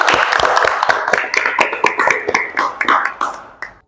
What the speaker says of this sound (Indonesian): Kita beri aplaus dulu untuk Neng Fitri